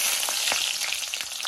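Onion and green chili hit hot oil in a wok, making a brief, steady, close sizzle with a few small crackles and pops, and no talking.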